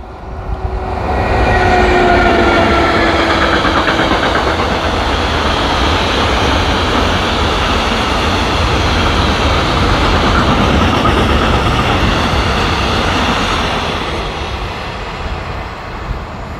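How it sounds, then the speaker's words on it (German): A DB Cargo diesel freight train hauling open high-sided wagons rolls past at close range, a loud broad rumble that swells within two seconds, holds steady for about twelve, then eases off. "DB Cargo mit einem GAC. Offene Hochbordwagen."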